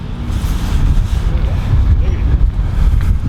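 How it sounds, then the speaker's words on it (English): Strong wind roars steadily outdoors, a loud low rumble of gusts buffeting the microphone throughout with no break. "Very windy out here."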